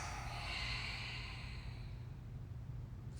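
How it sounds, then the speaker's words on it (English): During a standing yoga twist, a soft, drawn-out exhale through the nose or mouth is heard close by, quiet and breathy, gradually easing away over a few seconds. "take your time on the exhales."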